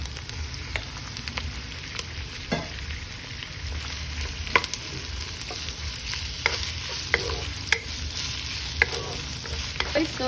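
Pork sautés in a pan with tomatoes and spring onions, giving a steady close sizzle dotted with scattered pops and crackles, with no talk.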